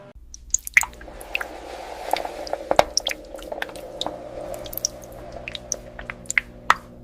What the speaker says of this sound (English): The tough outer skin is removed to extract the pure, nutrient-rich inner cactus gel.